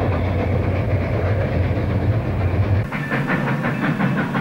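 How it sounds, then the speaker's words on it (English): A coal-fired steam locomotive on the Bangor & Aroostook Railroad rolls along the rails with a loud, dense rumble and hiss, the sound shifting abruptly partway through to a thinner rhythmic clatter. "The coal-fired steam locomotive."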